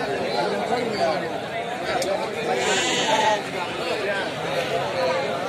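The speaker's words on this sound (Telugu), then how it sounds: "46 పొట్టెలు ఉన్నాయి అన్ని కలిసి" Sheep and goats bleat repeatedly at an open-air weekly sheep market in Allagadda, their calls mixing with steady crowd chatter and people talking nearby.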